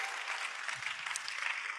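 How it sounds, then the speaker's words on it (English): A crowd claps steadily in sustained applause at a kickoff ceremony in Addis Ababa, Ethiopia, dense and even throughout. "A round of applause."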